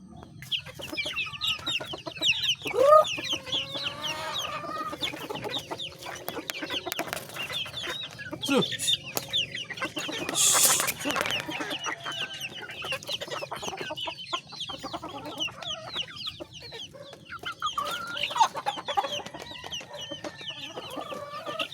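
Chickens and chicks cluck and peep on a farm in scattered bursts, with soft calls at moderate distance and faint voices and background noise.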